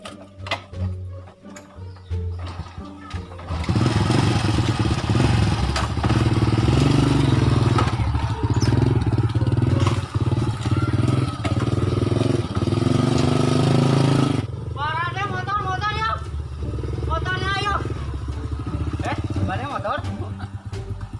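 Motorcycle engine idling and revving in a Sundanese village setting, a loud continuous mechanical drone that runs steadily for about ten seconds then cuts out, with people talking before and after.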